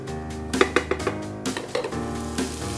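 Potatoes and fenugreek leaves cooking in a pan, a low sizzle under several close spatula scrapes and knocks against the pan in an irregular rhythm.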